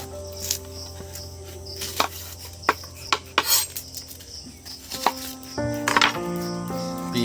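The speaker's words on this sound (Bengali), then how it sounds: "পেঁয়াজগুলো আমি কেটে করে সাইজ করে নেবো" A knife cutting onions on a board in a home kitchen, with a series of sharp, irregular chops and clinks, close and fairly loud over a steady background hum.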